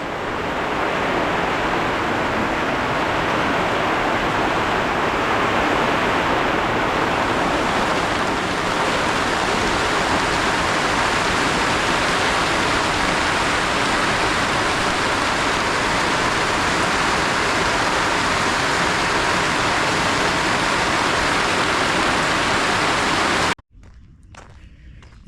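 Heavy rainfall in Kenya, a constant loud rushing wash of rain lasting over twenty seconds before cutting abruptly to a much quieter background at the end.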